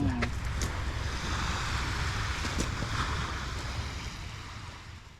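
Steady roar of sea waves washing on a white sand beach in Dasol, Pangasinan, with wind rushing over the microphone, constant and close.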